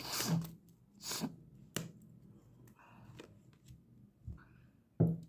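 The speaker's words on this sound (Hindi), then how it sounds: "final shuffle" Tarot cards shuffled by hand in several quick riffling bursts separated by short pauses, close and fairly quiet, with no talking.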